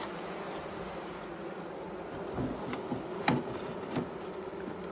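Angry honeybee colony from a prolific hive during walk-away splits into nucs, a dense continuous buzz close by with individual bees zipping past in brief louder passes.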